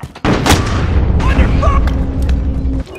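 A sudden loud grenade blast in Call of Duty: Modern Warfare, a sharp boom followed by a rumbling roar and debris that lasts about two and a half seconds before cutting off, with faint in-game voices.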